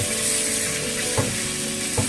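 Vegetables for veg biryani, mixed with biryani masala, sizzle steadily in a pan while a spoon stirs them, with two distinct scraping knocks against the pan over the continuous frying hiss.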